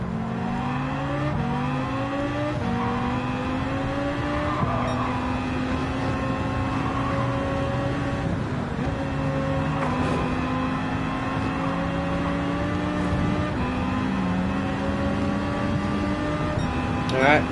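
A Citroen race car engine drones continuously in a racing video game, its pitch climbing and dropping through several gear shifts over a steady, close, fairly loud roar.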